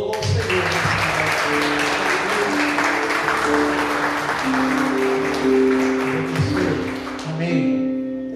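Church congregation claps in praise during a service, a sustained round of applause with sustained musical tones, likely keyboard or organ chords, playing underneath and fading out near the end.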